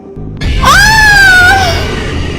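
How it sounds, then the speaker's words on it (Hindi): A woman lets out a single loud, sustained scream of fright in a Hindi horror story about a witch seen in a mirror, rising sharply and then holding over a dense dramatic background. "जैसे ही रिया वापस मिरर की तरफ मुड़ी तो उसकी चीख निकल गई।"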